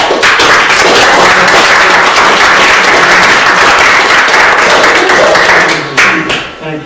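Loud, sustained applause fills a city council chamber, many hands clapping densely for several seconds before thinning out and fading near the end.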